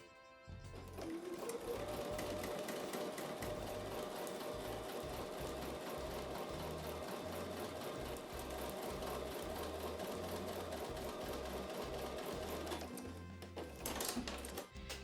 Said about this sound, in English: I'm going to take that over to the sewing machine and sew with a 1/4 inch seam